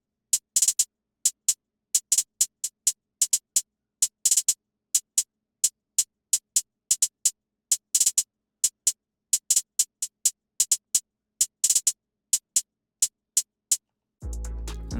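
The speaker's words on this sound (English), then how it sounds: "Then I added the hi-hats." Hi-hats on an FL Studio beat tick out a busy, bright pattern of short metallic hits, some in quick rolls and bursts. They play alone for about fourteen seconds before a deep, heavy sound cuts in at the end.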